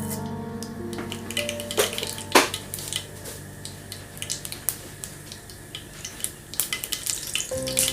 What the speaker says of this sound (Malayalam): കുറച്ച് എണ്ണ ഒഴിച്ചു കൊടുക്കാം. അപ്പോൾ നമുക്ക് കുറച്ച് കടുക് ഇട്ട് കൊടുക്കാം.